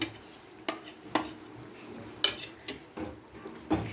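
Chicken liver and gizzards stir-fried in a pan, with a soft sizzle under scattered scraping and clanking strokes of a spatula, each a short sharp knock against the pan.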